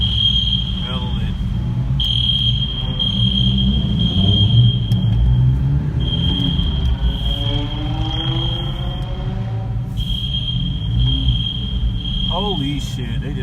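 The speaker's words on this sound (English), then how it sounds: "Now the smoke detectors are going crazy." Smoke alarms shrieking at a car meet after a burnout by an imported GTR, a piercing high beep repeating in long bursts over engine rumble and people talking nearby.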